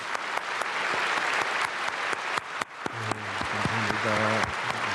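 A church congregation applauds at a Korean early-morning prayer service, a steady dense round of clapping that fills the room, with sustained sung or organ-like tones entering over it toward the end.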